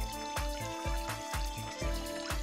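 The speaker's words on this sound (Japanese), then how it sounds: "試しに水を流してみましょう。" Water pouring from an upper tier of an aquaponics biotope onto a large stone and stacked rocks, a steady splashing trickle with rhythmic low gurgling pulses.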